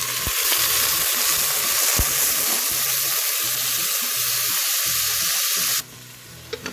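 Lamb pieces frying in hot oil with cumin seeds and bay leaves, a loud steady sizzle with a few stirring knocks throughout, dropping sharply quieter near the end.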